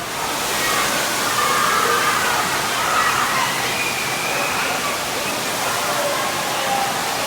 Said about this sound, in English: It also starts off with a bunch of water blasting off.